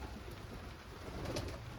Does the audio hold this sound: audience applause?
no